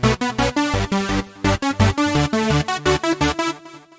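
Bright synth stabs layered with a fast supersaw melody in makina style, made in FL Studio, notes choppy and rhythmic, loud and up front, fading out at the end.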